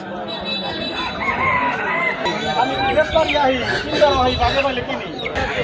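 A rooster crows repeatedly over busy chatter at a village poultry market in Nagarpur, Bangladesh, with people talking and fowl clucking close by.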